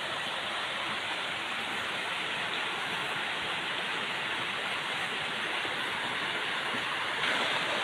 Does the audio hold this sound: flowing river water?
yes